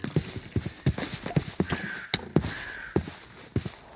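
Hollow, clattering video game skeleton horse hoofbeats trot in an irregular rhythm, close and fairly loud, with a few sharp clacks mixed in; no talking.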